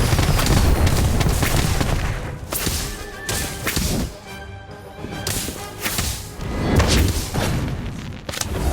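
Fantastic Bomb spell blasts in a Harry Potter video game, a series of sharp cracking booms and thuds in irregular bursts, loud and close, with a brief lull midway.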